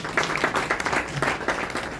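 An audience at an indoor poetry gathering in a Delhi mall claps steadily, a dense, fairly close patter of many hands with no pause across the short stretch.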